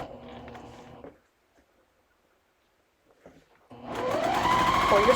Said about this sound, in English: And then we're going to sew with your 1/4 inch